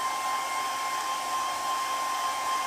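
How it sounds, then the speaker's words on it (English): A hair dryer blows steadily while drying a wormy sycamore wooden bowl, giving a loud, continuous whining hum with a constant tone and no pauses. "now I'm going to just try and dry this off quickly"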